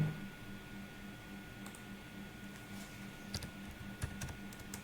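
Keys tapped on a computer keyboard while entering a search keyword in a keyword research tool, heard as scattered light clicks over a steady low hum, with a few sharper taps near the end.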